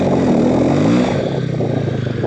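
A motorcycle engine runs steadily in first gear on a winter ride, its throaty mid-range drone loud and close with slight wavering in pitch, no talk over it.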